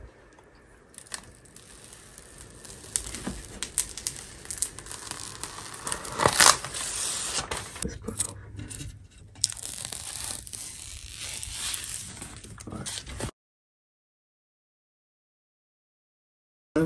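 Protective plastic film peeled off a new gaming PC, close and alone: a run of crinkling, tearing rips with a sharp louder burst midway, ending in silence.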